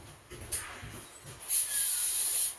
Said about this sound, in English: So I'll spray a little carb spray on this side and blow it out a little bit.